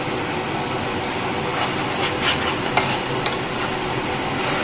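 Tomato paste is stirred in a hot pan for a paneer curry, giving a steady close sizzle with a few light scrapes and taps of the spoon, continuous and with no voices.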